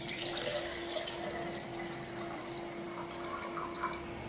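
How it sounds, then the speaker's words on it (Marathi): Water is poured into a small copper pot set up for a traditional Ghatasthapana household worship, a continuous splashing trickle with a steady ringing tone as the metal vessel fills, close and alone. "आता आपण ह्या गडू तांब्यात पाणी घालू."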